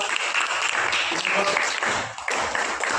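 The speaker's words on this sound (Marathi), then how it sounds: "हिच्यासाठी एकदा जोरदार टाळ्या वाजवा" A classroom of students applauds a fellow student, a dense, steady patter of many hands clapping close by for a few seconds.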